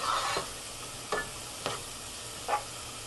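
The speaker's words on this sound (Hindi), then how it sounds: "हम तेल गरम करेंगे और उसमें अपना जो लहसुन है जो हमने ग्रेट करके रखा था उसे थोड़ा सा भूनेंगे।" Grated garlic frying in hot oil over medium heat, a soft low sizzle broken by four brief bursts of scraping or stirring, quiet and close, no voices.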